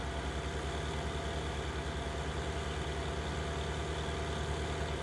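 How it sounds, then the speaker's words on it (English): A tractor engine in Farming Simulator 19 drones steadily under load, a constant low rumble with a faint pulsing throb and no voices. "I don't know if this tractor's actually struggling."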